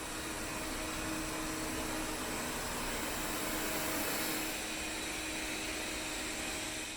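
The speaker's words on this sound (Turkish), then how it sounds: "Robot süpürge genel olarak sessiz çalışıyor bu arada" A Philips HomeRun 7000 robot vacuum mop hums with a steady, even whir, running continuously at moderate volume with no voices.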